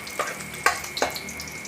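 Hot cooking oil sizzles in a pan while pork and onion cook, with a soft steady hiss broken by three sharp crackling spatters. It is close and fairly quiet, with no talking.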